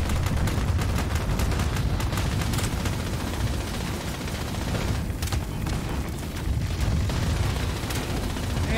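Continuous video-game gunfire and explosions fill the scene, a loud dense barrage of overlapping shots and booms with no pauses, dominating everything throughout.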